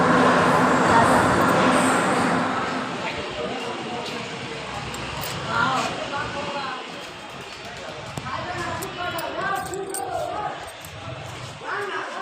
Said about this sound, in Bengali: চলে গেল ট্রেন, ছেড়ে দিয়েছি